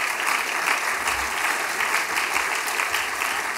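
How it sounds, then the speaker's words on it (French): Dense, steady applause from a large audience at an outdoor political rally for Hervé Morin at the Fête de la Pomme, a continuous wash of many hands clapping close by, with no talk over it. "Vous pouvez applaudir."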